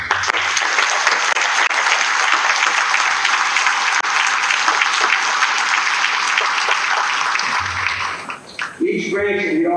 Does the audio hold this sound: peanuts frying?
no